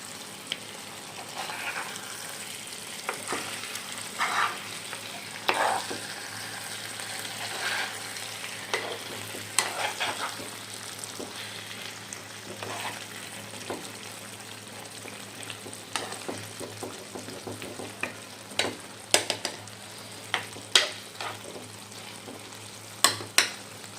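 Chicken roast being mixed in a hot pan, with steady frying sizzle and scattered scraping stir strokes of a spoon against the pan over the whole stretch, close and moderately loud, no talking.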